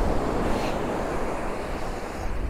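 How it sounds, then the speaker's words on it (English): Ocean waves wash continuously onto a sandy beach in a broad, steady roar with some wind noise on the microphone, close and loud with no talk. "the waves were coming up here quite a bit earlier and now they've backed off a bit"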